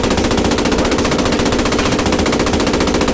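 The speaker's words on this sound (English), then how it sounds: "I can fire a Napier round." Tank gun firing in the WW2 game Post Scriptum, a rapid, dense burst of machine-gun-like fire that hammers on continuously and loudly for the whole stretch.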